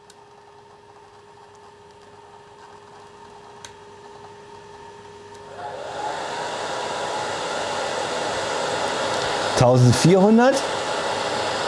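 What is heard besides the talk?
hair dryer running on a power station, normal setting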